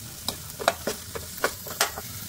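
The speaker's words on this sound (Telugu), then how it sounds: "కొంచెం ప్రెస్ చేసుకొని బాగా ఫ్రై చేసుకోవాలి. కొంచెం ఆనియన్స్ టమాటా ఫ్రై అయ్యేంత వరకు." Onions and tomatoes with salt and turmeric fry in a pan while being stirred, giving a quiet sizzle broken by a quick run of short scraping strokes.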